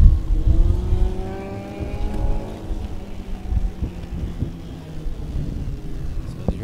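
A midget race car engine fires back up on the Bullring oval at Las Vegas Motor Speedway, revving in rising and falling pulls under steady, gusting wind buffeting the microphone.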